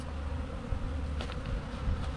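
A swarm of wild honeybees buzzes at a bait hive set in a deep cavity, a continuous close droning hum with individual bees flying past, no talk.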